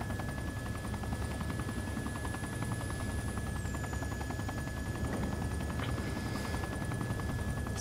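Helicopter in the Arma 2 military video game, a steady, close rotor drone with rhythmic blade chop and a sustained whine that dips in pitch partway through, with no talking.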